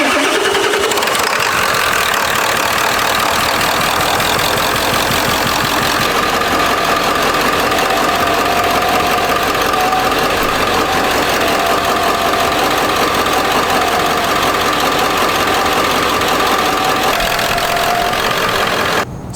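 A 1997 Ford F-250 with a 7.3 diesel V8 runs with a misfire, a loud continuous rough idle with a knocking, uneven clatter that is close and steady throughout, with no talk.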